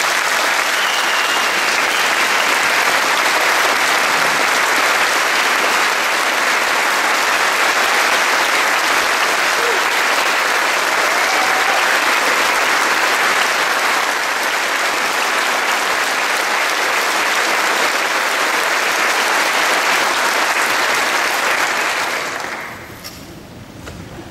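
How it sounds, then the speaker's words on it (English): Sustained loud applause from a large crowd at a Sinn Féin Ard Fheis party conference in 2011, steady throughout before tapering off at the very end. "A big round of applause."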